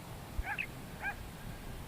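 Dogs far below in the British Columbia outdoors give two brief, faint yipping barks, small and distant over a low wind rumble.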